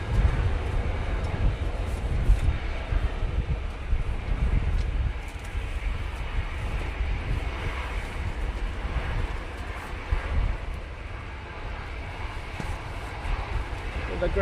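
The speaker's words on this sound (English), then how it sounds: "that wind just getting up mega" Strong gusty crosswind at Manchester Airport buffets the microphone while a plane lands, a steady loud roar with rumbling low-end bursts and a distant aircraft drone running underneath.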